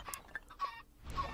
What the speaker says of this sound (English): we're killing some chickens